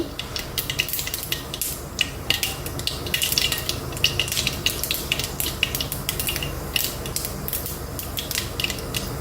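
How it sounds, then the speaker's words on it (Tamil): Mustard seeds spluttering and popping in hot oil in a pan, a steady close sizzle dotted with quick sharp crackles throughout. "கடுகு பொரிஞ்சிருச்சு"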